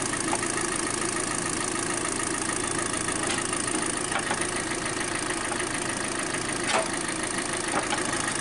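Kia Soul engine idling steadily at a constant, even drone with a few faint ticks, no talking, close and continuous throughout.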